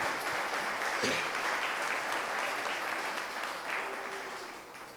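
A church congregation applauds during a service, a dense steady wash of clapping that holds for about five seconds before easing slightly, with faint voices underneath.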